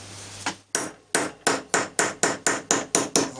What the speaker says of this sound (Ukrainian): Бумажка, пробойник. Зараз вибиваємо, вирізаємо і буде прокладочка.